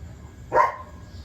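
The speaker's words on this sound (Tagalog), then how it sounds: "Ingay talaga ng aso namin pag dito na ako sa garden." A single short dog bark in a garden, sharp and moderately loud, rising out of a low background hum.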